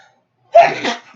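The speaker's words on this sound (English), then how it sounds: "I'm gonna sneeze" A single sudden sneeze, close and loud, bursting out of silence with a short breathy tail.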